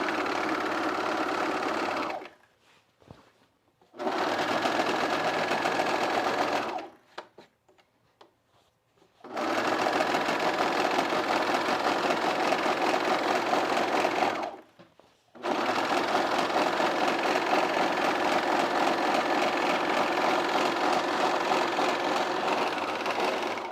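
Serger sewing machine working through thick denim on jeans, a loud, continuous mechanical whir broken by a few brief stops, with no talking.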